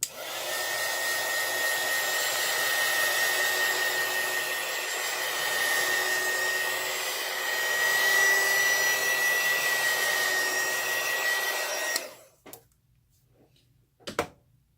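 Heat tool blowing steadily to dry alcohol ink on a flower, a loud continuous whooshing whine for about twelve seconds that cuts off abruptly, followed by a few faint clicks.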